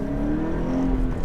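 A 2018 Subaru BRZ tS engine accelerating, a loud, steady, close engine drone with a rising tone through a brief stretch, with no talking.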